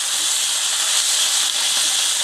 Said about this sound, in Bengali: বেগুনটা এরকম করে ভেজে নেব